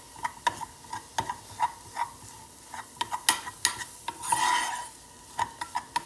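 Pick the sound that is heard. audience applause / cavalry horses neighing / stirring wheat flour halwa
stirring wheat flour halwa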